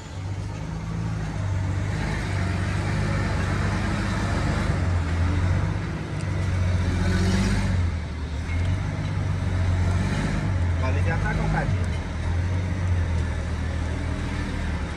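A Volvo FH truck fitted with a straight-pipe exhaust rumbles loudly and steadily through gear changes, its deep engine drone dipping and rising across the shifts without any talk.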